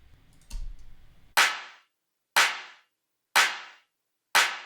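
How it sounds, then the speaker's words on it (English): Four sharp, bright clap samples in a synth pop rock track, evenly spaced about a second apart, each with a short decaying tail, heard alone after a brief low rumble. "Next we have the claps coming here."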